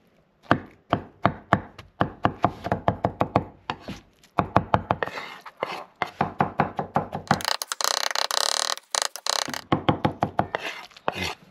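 Lamb ribs being chopped on a board, a close series of sharp rhythmic cleaver thuds in quick runs separated by short pauses, with a brief rustling stretch in the middle and no speech.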